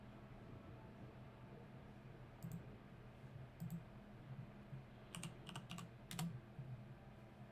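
Computer keyboard keys click faintly against a low steady hum, with scattered single taps early on and then a quicker cluster of several keystrokes toward the end.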